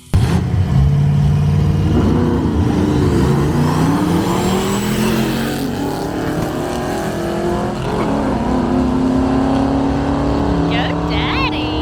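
A turbocharged small-block Ford Fairmont drag car rolls toward the staging lanes at a dragstrip, its engine loud and close with rising and falling revs, under a voice talking.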